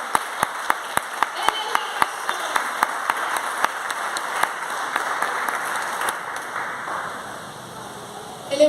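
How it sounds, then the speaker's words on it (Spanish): A church congregation applauds in praise, with sharp, rhythmic claps forming a steady crowd wash that lasts nearly the whole time before easing toward the end, while a voice speaks over it. "Démosle un aplauso al Señor"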